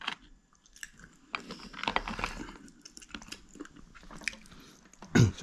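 Close, quiet chewing of oily food, with irregular crunches and wet mouth sounds over several seconds and a louder crunch at the end.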